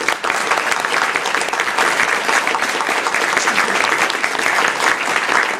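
Loud, close applause from an audience at an all-candidates debate, thanking the moderator: a thick, continuous roar of many clapping hands sustained throughout without a break.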